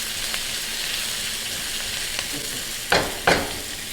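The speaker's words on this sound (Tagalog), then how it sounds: "Hinalang natin yung apoy para hindi masunog. Kailangan lang mag-translucent yung ating onion." Onion frying gently in a pan over low heat gives a steady, soft sizzle close by, broken near the end by two brief, louder bursts of spatter; no one speaks.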